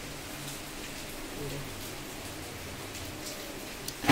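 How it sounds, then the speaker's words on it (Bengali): Steady rainfall hisses evenly outside a home, a soft continuous wash with no distinct drops, ending in a sudden louder burst at the very end. "বৃষ্টি এসে গেছে"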